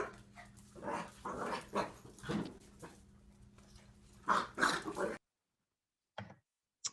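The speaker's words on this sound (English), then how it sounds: "older puppies playing" Older puppies playing together, with growls, yips and scuffling bursts that come close and loud for about five seconds, then quiet with a couple of brief faint sounds.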